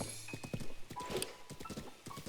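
A horse in Zelda: Breath of the Wild clip-clops with quick, close hoof beats, and a brief whinny rises among the steps.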